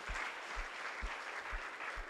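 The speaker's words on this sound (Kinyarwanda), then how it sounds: "Dukomere amashyi umwami." A church congregation applauds for Jesus during a bilingual French and Kinyarwanda sermon: dense, steady crowd clapping with a regular, thumping rhythm running throughout.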